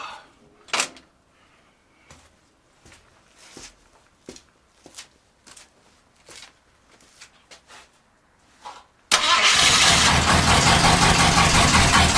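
A car engine, part of a Mad Max–style wasteland car build, bursts to life after a series of scattered clunks and footsteps, then idles loud and steady with a rough, dense rumble.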